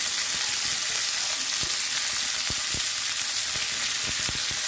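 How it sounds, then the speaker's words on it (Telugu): Close, constant sizzling of veldt grape stems sautéing in a pan, with occasional soft knocks and scrapes of stirring. "ఇప్పుడైతే నెల్లేరకాళ్ళు వేసుకొని అవి కూడా బాగా మగ్గిస్తున్నాం"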